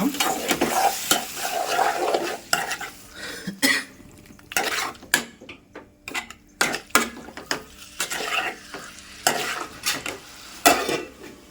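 Pieces of goat boti fry in a pan while a spoon stirs them, giving repeated loud scraping and clattering strokes over a steady sizzle, with short pauses between bursts.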